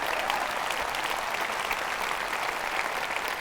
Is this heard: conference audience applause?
yes